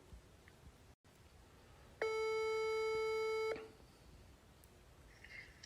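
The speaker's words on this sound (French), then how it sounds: "On appelle Kylian Mbappé." A single telephone ringing tone on an outgoing call, a steady electronic tone held about one and a half seconds against quiet background hiss.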